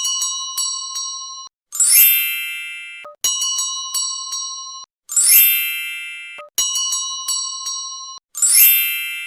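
Bell chimes ring in a repeating pattern, each sequence of bright dings followed by a shimmering jingle burst, cycling three times with short silences.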